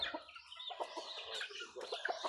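Chickens cluck in quick, overlapping bursts close by, a busy chatter of short calls with no talking.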